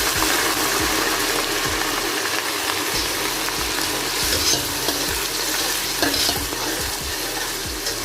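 Loud, steady sizzle of frying as water hits browned onions in a pan for beef pulao, with repeated scraping stir strokes across the whole span and no talk.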